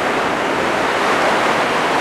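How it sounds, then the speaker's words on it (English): Steady, roaring wind on the Lake Superior shore in Michigan's Upper Peninsula, a dense broadband rush with surf churning underneath, loud and unbroken throughout. "It's incredibly windy though here today."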